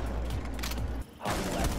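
Rapid gunfire bursts in the tactical shooter Rainbow Six Siege crackle loudly and densely, break off for a moment, then resume in another sustained volley.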